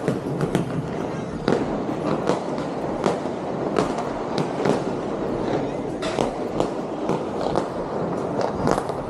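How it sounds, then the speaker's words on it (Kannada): Diwali firecrackers burst all around a house: a steady run of sharp pops and cracks at varying distances, some close and loud, others farther off, with voices talking throughout. "ಲಿಮಿಟೆಡ್ ಆಗಿ ತಗೊಂಬಂದು ಈ ರೀತಿಯಾಗಿ ಪಟಾಕಿ ಹಚ್ತೀವಿ"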